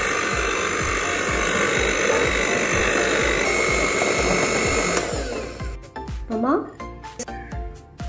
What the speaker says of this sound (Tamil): முட்டையை சேர்த்த பிறகு மறுபடியும் 10 நிமிஷம் நல்லா பீட் பண்ணுங்க.